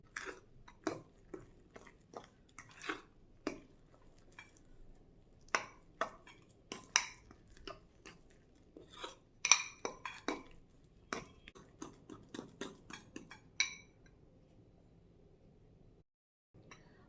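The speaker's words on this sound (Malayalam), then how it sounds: "മാവ് നല്ലപോലെ മിക്സാക്കി എടുത്തു" Urad dal batter for uzhunnuvada is mixed in a bowl, producing irregular sharp clicks and scrapes of a utensil against the bowl, fairly close and quiet with short gaps between strokes.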